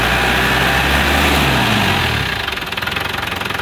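A 1993 Land Rover Defender with the 200 TDI diesel idles close by, a steady, rough clatter that thins and shifts pitch partway through, then keeps chugging evenly with no voices.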